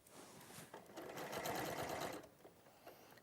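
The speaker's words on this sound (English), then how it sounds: "I'm not going to make you just sit there and watch me just sew all of these together." Sewing machine stitching quilt triangles together, a steady rapid mechanical whir that speeds up and runs continuously in the middle before slowing, heard alone at moderate volume.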